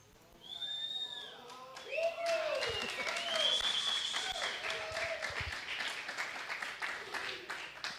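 Congregation applauding during a Spanish-language church sermon, a scattered burst of clapping that swells and holds for several seconds while voices call out over it.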